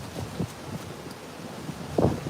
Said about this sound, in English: it's so windy that we can't do that